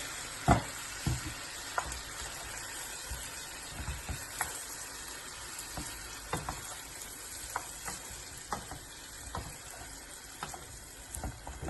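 Octopus stew with plum tomatoes and a bay leaf bubbling in a pot, a steady soft simmer and sizzle with scattered clicks and stirring knocks throughout, no voices.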